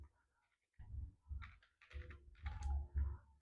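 Typing on a computer keyboard while entering data into an Excel spreadsheet, several short bursts of close keystrokes with pauses between them, heard alone after a brief quiet start.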